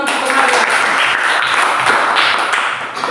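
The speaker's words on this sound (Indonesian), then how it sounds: "Kasih tepuk tangan untuk temannya." A classroom of students applauds a classmate for a correct answer, giving a dense, steady burst of many hands clapping together that holds evenly for about three seconds.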